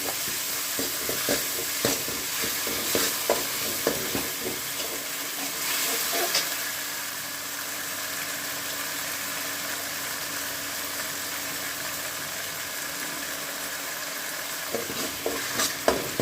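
Ginger garlic paste sautés in oil in a pan for a meal-maker kurma, giving a continuous close, even sizzle with occasional clinks and scrapes of a spoon at the start and end; no speech.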